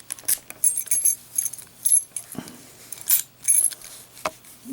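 A Premier Gold Seal brass padlock with a six-pin core is worked open with a small brass key, giving close, crisp metallic clicks and light jangles in short irregular bursts against a quiet background.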